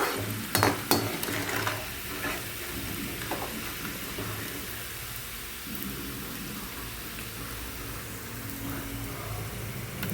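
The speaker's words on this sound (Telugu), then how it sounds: "తక్కువ ఆయిల్ వేసి కొంచెం కొంచెం వేసి అయితే ఫ్రై చేస్తున్నాను." Bitter gourd pieces fry in a little oil, a steady soft sizzle with a few sharp utensil clinks near the start, close and moderately loud.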